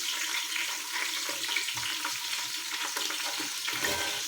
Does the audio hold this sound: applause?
no